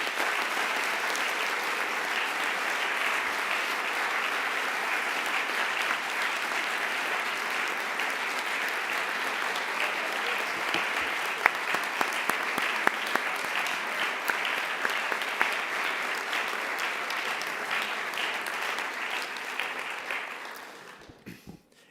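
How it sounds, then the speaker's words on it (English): Sustained, loud applause from a large audience at an association's annual general assembly, honoring its contributors, steady clapping for about twenty seconds before fading out at the end. "So please give them a big applause for all they've done in the association."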